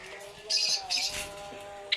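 Short bursts of high, bright African lovebird chirps, a couple of quick twittering calls close by with a faint hum underneath.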